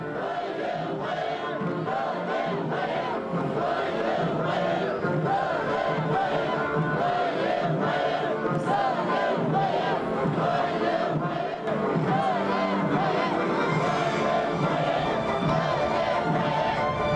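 Large crowd cheering and chanting in unison as Xi Jinping arrives by plane in Lhasa, rhythmic rising shouts sustained throughout, dense and steady, with a voice talking over it.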